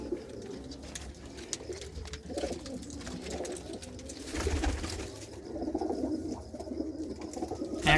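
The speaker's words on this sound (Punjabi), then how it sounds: "ਬਹੁਤ ਪਿਆਰਾ ਕਬੂਤਰ ਹੈ" Racing pigeons coo softly and repeatedly amid a busy, rustling background, with occasional flutters and scattered bird calls nearby.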